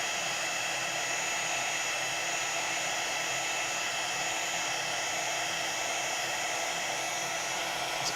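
A heat tool blows a steady, whining stream of hot air over embossing powder to melt it, a constant close hum with a faint high tone that runs unbroken, with no speech.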